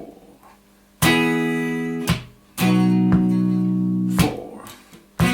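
Clean electric guitar plays the fill, alternating between the 2nd–3rd and 4th–5th string pairs in sustained, ringing double-stops. Several chords sound alone, each held and then cut short, close and clear.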